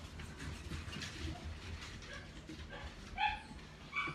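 A pet dog in a home gives high, thin whimpers and short yips, faint at first and then a few clearer whines near the end over a low background rumble.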